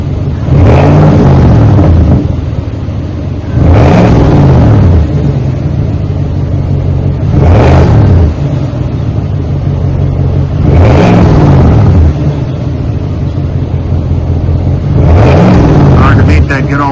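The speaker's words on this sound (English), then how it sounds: "Hard to beat that good old Flowmaster rumble." A 2026 Chevrolet Silverado 1500 fitted with a Flowmaster 40 muffler revs loudly in five separate bursts, each rising into a deep rumble and falling back to a low idle between them.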